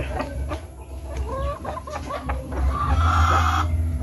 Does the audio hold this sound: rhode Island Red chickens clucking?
yes